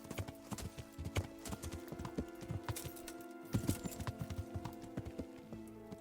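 Horse hooves clip-clop steadily on the ground in the video game Kingdom Come: Deliverance, a close, continuous rhythmic clatter over a low ambient hum.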